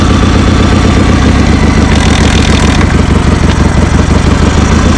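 A 1976 Harley-Davidson Sportster 1000 motorcycle idles close by, its low, lumpy engine beat loud and steady throughout with no voices over it.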